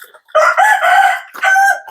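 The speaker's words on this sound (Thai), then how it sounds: "ไก่ขันงามขันมวน" A rooster on a rural Lao farm crows loudly and close by: one long drawn-out call, then a brief break and a second, shorter crowing phrase.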